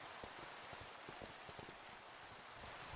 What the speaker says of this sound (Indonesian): Aduh, hujannya gede banget.